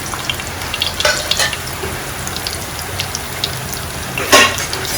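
Pieces of coconut fry in hot oil for a Kerala-style beef and jackfruit dish, with a continuous close sizzle and sharper crackling bursts as they are stirred.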